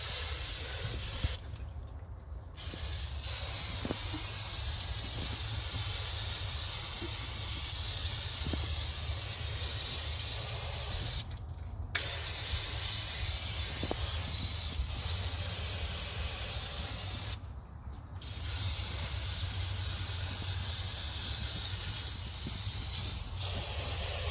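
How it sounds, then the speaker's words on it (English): Steady aerosol carburetor cleaner sprayed onto the outside of a carburetor, hissing continuously for a long stretch, broken by a few brief pauses, close and fairly loud with no talking. "We have to clean the carburetor. So I'm just gonna spray the outside of it."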